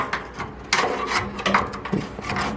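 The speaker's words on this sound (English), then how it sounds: "I'm just trying to clean the sidewall here as much as I can. Scraping it down." A tool scraping soot off the sidewall of a cookstove, making rough, uneven rasping strokes close by with short pauses between them, nobody talking.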